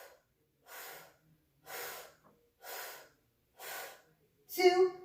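Breathing during a Pilates exercise: five steady, evenly spaced breaths close to the ear, each about half a second long, followed by a sharper, louder final exhale or gasp.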